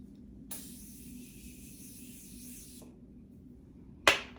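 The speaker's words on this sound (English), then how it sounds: "I'm actually going to set my face from here with all these powders. And I'll be using the Morphe Continuous Setting Mist." Morphe Continuous Setting Mist sprayed onto a face: one close, steady hiss lasting about two seconds, followed after a pause by a sharp click near the end, with no talking.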